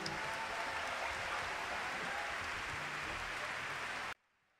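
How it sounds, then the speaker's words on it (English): An audience in Douala, Cameroon, applauds a Cameroonian Ambassbé singer with a steady wash of clapping, heard fairly faint and distant, before it cuts off abruptly into near silence. "le chanteur camerounais que je vous demande d'applaudir"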